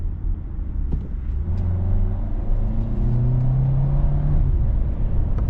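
A 2025 Hyundai Kona Limited AWD with a regular 8-speed automatic revs hard from inside the cabin, its engine note climbing and dropping through quick successive gear shifts over a steady road rumble.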